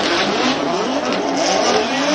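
Drift car engine at full throttle on Okayama International Circuit during a Formula Drift Japan Top 16 battle on a slick track, a loud continuous roaring rev held steady for a couple of seconds.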